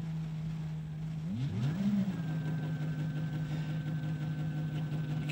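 A motor-driven wheel on a Swytch e-bike conversion spins up during controller repair, a steady low hum that wavers and sweeps in pitch midway, then settles into a constant drone.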